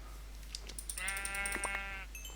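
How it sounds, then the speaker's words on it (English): A sheep in a video game gives a single wavering bleat lasting about a second, fairly loud over game sounds with a few clicks and tones. "The death of one more sheep."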